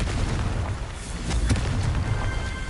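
A Confringo fire spell bursts in Hogwarts Legacy with a dense, rumbling blast, followed by crackling debris and a sustained roaring wash that lingers for a few seconds, loud and close.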